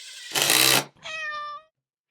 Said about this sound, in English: I drove in screws with an impact driver